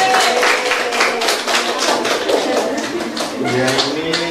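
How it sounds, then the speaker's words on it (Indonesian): Classroom applause for a student group, a steady run of close hand claps from several people, with voices talking over it. "Tepuk tangan kelompok 5."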